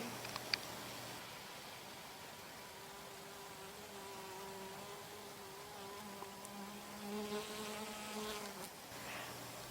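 Low droning buzz of bumblebees hovering over flowers, often two on one flower, rising and falling as they move, with a soft outdoor background.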